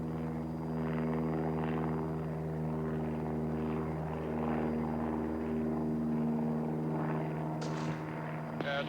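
A helicopter flying low over open country while a marksman darts a running grizzly bear, with a steady droning rotor and engine hum holding throughout and a couple of sharp brief clicks near the end.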